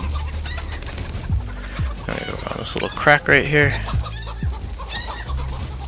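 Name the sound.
chickens clucking in video game Desperados III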